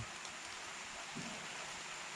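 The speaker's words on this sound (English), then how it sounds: "it started raining on me" Steady outdoor rain falling on a farm, a dense, even hiss of drops continuing without pause, with no talking.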